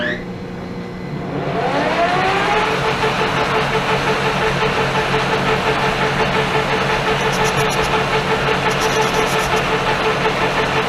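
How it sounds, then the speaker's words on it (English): A metal lathe on a phase converter spins up from a low hum into a loud, steady mechanical whine and drone that holds constant, with faint periodic ticking near the end and no talk. "Lathe on."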